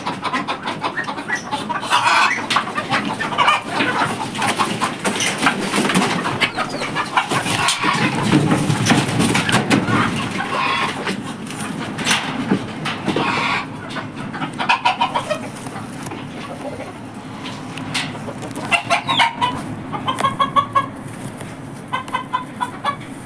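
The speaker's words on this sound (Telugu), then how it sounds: "ఇవన్నీ బాతులు, ఇవన్నీ కోళ్ళు." Chickens and ducks on a farm in the Kuwaiti desert cluck and squawk continuously, loud and close, with overlapping calls from many birds and occasional sharper cries throughout.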